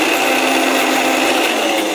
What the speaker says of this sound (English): And then blend this, and we're going to make a coarse puree out of it.